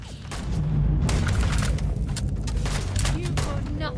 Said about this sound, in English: Those shots miss